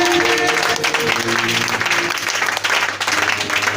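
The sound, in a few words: church congregation applauding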